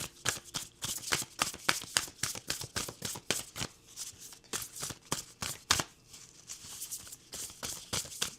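Affirmation cards are shuffled and pulled from a deck, a close, continuous patter of rapid riffling slaps and flicks with no talking.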